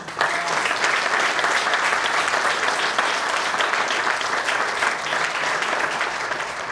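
A crowd at a volunteer fire brigade ceremony in Slovenske Konjice, Slovenia, claps steadily for an award. The applause is loud and sustained throughout with no pauses.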